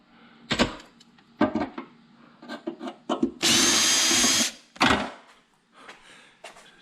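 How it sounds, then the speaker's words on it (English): Power drill boring out rivets on the aluminum cap of a 2014 Ford Expedition, with one sustained loud whine among scattered knocks and handling clatter, close up. "now we have to drill out these rivets to get this, aluminum cap off"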